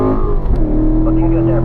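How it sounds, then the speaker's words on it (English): Race car engine on track at Spring Mountain, steady and loud, its rising harmonic tones shifting upward as it climbs through the gears to fourth, with a driver's voice talking over it. "Up through the gears once again, up to 4th gear."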